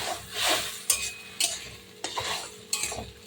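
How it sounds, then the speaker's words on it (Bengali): A spoon stirs Morola fish into a thankuni leaf and potato curry in a pan, with a faint sizzle beneath and several sharp scrapes and clacks of the utensil against the pan, close and unaccompanied. "আমি যে অন্য মাছটা ভেজে রেখে দিয়েছিলাম, মাছটা দিয়ে দেবো। দিয়ে নেড়ে চেড়ে"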